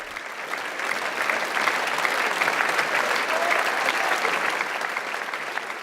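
An audience at the Théâtre des Champs-Élysées applauds after an opera, dance or music performance, with dense, sustained clapping that fills the hall for several seconds.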